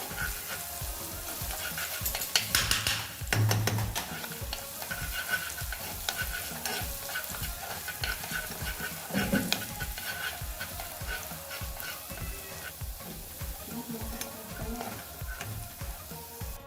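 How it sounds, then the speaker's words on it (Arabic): Minced garlic sizzles and crackles in hot oil while a utensil scrapes and taps against the pan throughout, steady and close. "اول ما الزيت سخن هنزل كده بنص معلقه توم مفروم، وهشوح فيها لغايه لما لونها يصفر"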